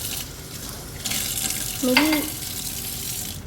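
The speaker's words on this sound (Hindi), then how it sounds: "मैं हमेशा चीज़ों को खंगाल के ही यूज़ करती हूँ" Water from a kitchen tap gushes into a sink while a glass is rinsed, a steady splashing rush that starts partway through, with a voice briefly over it.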